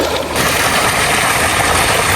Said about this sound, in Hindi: आज सुबह सुबह ट्यूबवेल चलाया हुआ है तो अभी पानी आ रहा है।